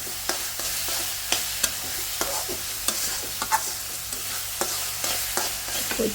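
Masala spice paste frying in oil while being stirred, with a steady sizzle broken by regular sharp scrapes of the spoon against the pan, close and fairly loud, no talking.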